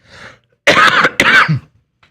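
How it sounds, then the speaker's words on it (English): A faint throat clear comes first, then two harsh, loud coughs close to the microphone, followed by silence. "sorry for the cough"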